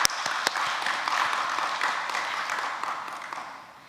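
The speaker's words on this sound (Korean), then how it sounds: "이번 선생님들을 위해서 한번 큰 박수 한번 부탁드리겠습니다" A crowd at a church children's retreat report claps in sustained applause, a dense, steady wash of many hands that stays loud throughout and fades slightly at the end.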